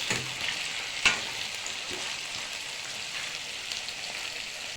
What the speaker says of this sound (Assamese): মাংস ভাজি আছোঁ, পানী দিয়া নাই এতিয়ালৈকে।